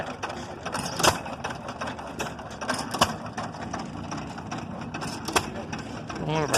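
A 1914 United Engine Company stationary engine of 1 3/4 horsepower runs at a tractor and engine show, with a steady clattering, ratchety mechanical rhythm punctuated by periodic sharper knocks, mid-distance, with faint voices around.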